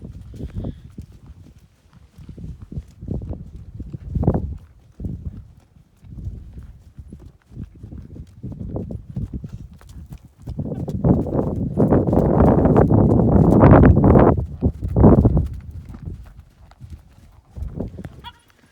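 A horse named Rhys trots under a rider, hooves clip-clopping in a steady, close rhythm that grows louder and denser midway before easing, with a voice speaking faintly at times.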